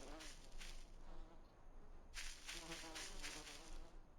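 Insects buzzing from a bee or wasp nest in the Voices of the Void game, a steady droning hum that swells louder in pulses, with faint voices in the background.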